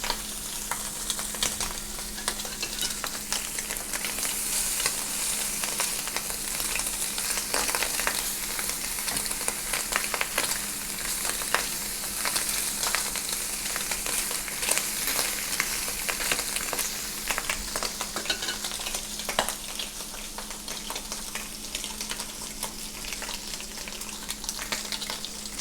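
Bacon rashers sizzle steadily in a frying pan for a bacon sandwich, a dense, even crackle with scattered spits and pops that holds at a constant level throughout with no voices.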